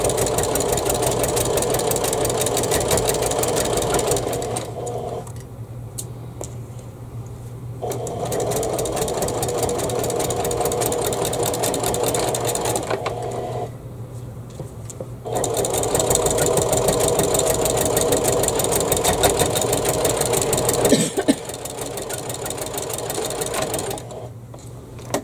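A sewing machine stitches a cathedral window quilt block, its fast, steady mechanical whirr running in long bursts with brief pauses in between, close and fairly loud.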